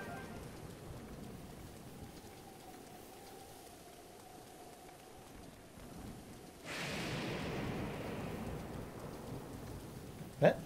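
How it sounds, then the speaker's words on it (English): Rain and a thunderstorm in the video game Zelda: Breath of the Wild: a soft steady rain hiss that swells into a heavier downpour partway through, ending with a sudden sharp thunder crack. "That lightning is hitting very close to home."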